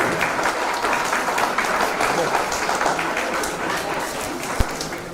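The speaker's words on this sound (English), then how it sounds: "A round of applause as we unveil the publication book." Audience applause at an international seminar book unveiling: a steady, dense wash of many hands clapping from a crowd, sustained at even loudness throughout, with a single sharp knock near the end.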